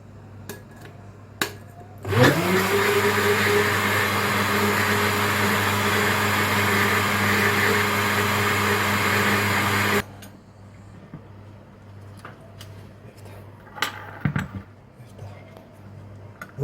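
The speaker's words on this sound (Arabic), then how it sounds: "ونرجع برضو تاني للخلاط مع الزيت، برضو سيل صغير زيت" A kitchen blender runs steadily for about eight seconds, whipping mayonnaise while a thin stream of oil is added, with a loud constant whir that starts and stops abruptly amid light kitchen clatter.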